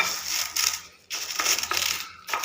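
Close-up crunching and crackling as hard edible gum pieces are crushed for gond laddu, coming in a few rough bursts with brief pauses between them.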